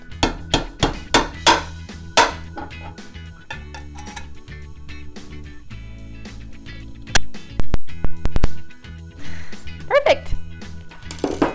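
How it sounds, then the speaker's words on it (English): Sharp metallic hammer strikes in quick bursts, driving a nail through the top of a metal can, several blows in a row with pauses, close by, with a few softer taps and brief talk in between. "I'm going to very carefully nail a hole through the top."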